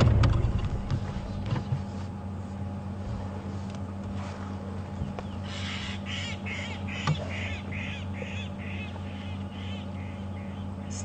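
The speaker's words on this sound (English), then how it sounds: "Starlings have got a lot to say." Starlings chatter in a repeated, bursty series of calls from bushes on an evening game drive in the African bush, set against a steady low vehicle engine hum, with a few sharper squawks in the mix.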